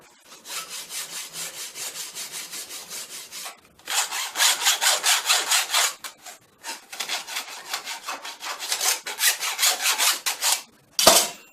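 A metal file works along the sharp, freshly cut edge of a metal item, rasping in close, loud bursts of quick repeated strokes separated by short pauses, with no talking.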